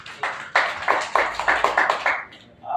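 A small group at a meeting gives a brief burst of applause, roughly a dozen fairly loud claps in quick succession that trail off within about two seconds.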